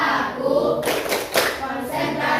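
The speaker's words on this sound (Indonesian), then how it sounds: "Tepuk konsentrasi." Students in a classroom clapping in unison for a concentration clapping game, sharp rhythmic bursts of group claps mixed with voices chanting together.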